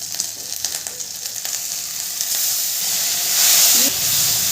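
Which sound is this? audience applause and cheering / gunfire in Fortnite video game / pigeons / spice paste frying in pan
spice paste frying in pan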